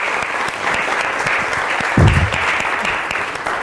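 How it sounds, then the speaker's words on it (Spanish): Students applaud in a classroom at a Bogotá school after a science fiction and philosophy class, a dense continuous clapping with a brief louder thump near the middle. "un aplauso para ustedes"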